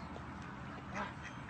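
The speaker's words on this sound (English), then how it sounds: "You might want to get your duck." A pet duck released into the wild quacks outdoors, a short burst of nasal calls rising briefly above a low background murmur, fairly close and moderately loud.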